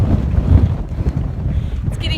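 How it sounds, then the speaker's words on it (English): Powerful gusts roar across a mountain hiking trail, buffeting the microphone with a heavy low rumble that surges and eases over a couple of seconds, a voice briefly mixed in underneath. "I have never felt wind this strong before in my life."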